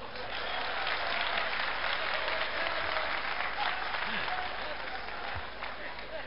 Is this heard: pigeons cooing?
no